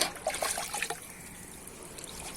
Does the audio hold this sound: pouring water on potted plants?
yes